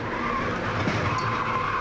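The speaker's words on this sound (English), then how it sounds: "a car in the wall, and spinning down to the bottom" NASCAR race car skidding down the track after hitting the wall, a steady rushing tire and engine roar heard from a distance, continuous and without talk.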